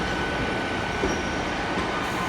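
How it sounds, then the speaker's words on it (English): A Great Western Railway passenger train at a station platform gives a steady, fairly loud rumble of rolling stock and engine noise throughout, with no talking. "Looking rather packed on that train."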